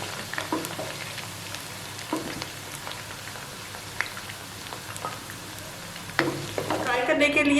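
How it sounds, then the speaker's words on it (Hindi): Onion slices drop into hot oil and fry, a soft crackling sizzle with scattered pops and light stirring clatter, growing busier toward the end. "फ्राई करने के लिए प्याज के स्लाइसेस को इसी ऑयल के अंदर डाल रही हूँ।"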